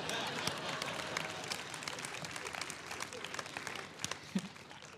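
A church congregation claps during an Easter sermon, a spread of scattered, fairly faint hand claps from many people that thins out over a few seconds.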